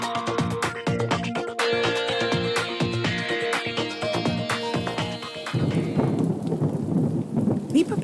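Rain and thunder effect in a radio ad, dense rumbling storm layered over music for most of the stretch, then steady heavy rain and low thunder continuing loudly on their own near the end.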